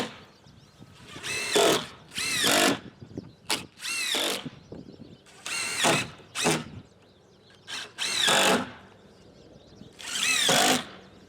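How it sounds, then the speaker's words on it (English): Power drill driving screws into bowed 2x4 boards from the outside of a rabbit coop wall, several loud whining bursts of a second or so each with short pauses between, close to the mic. "So I'm going to be screwing this on from the outside."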